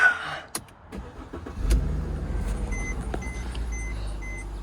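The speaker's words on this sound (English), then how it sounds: "Let's fire it up and take it for a walk around and spin." A 2010 Mercedes E350 coupe with a V6 cranks and fires up after a few clicks, settling into a steady low idle with a faint intermittent chime ringing over it.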